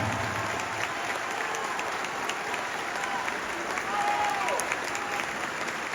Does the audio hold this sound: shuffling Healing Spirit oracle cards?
no